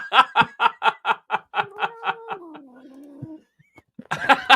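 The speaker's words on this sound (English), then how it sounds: "my cat's attacking me" A cat attacks and lets out a drawn-out, wavering meow that slides downward, set between bursts of rapid, loud human laughter.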